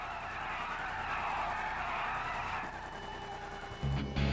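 A Bravado Buffalo STX car engine in GTA 5 roars at high revs with a gritty, tire-like hiss, steady and close, shifting tone near the end.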